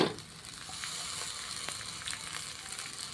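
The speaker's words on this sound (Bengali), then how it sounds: "এই মশলাটা আমি এখন এর মধ্যে দিয়ে কষাতে থাকবো।" Spice paste of garlic, ginger, onion, cumin and coriander sautéing with fried potatoes and onions in a pan for a village-style Bengali duck egg curry, giving a steady close sizzle with small crackles and no talk.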